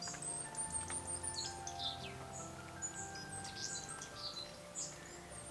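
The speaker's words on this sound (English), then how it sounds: "You can hear all these small birds." Small birds chirp and tweet around an outdoor pool, many quick high calls scattered over a soft background hum, fairly faint and distant with no talk.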